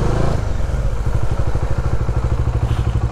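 A motorcycle engine idles roughly with a rapid, even putter as the bike is pulled aside, loud and close, with some clatter early on and no speech.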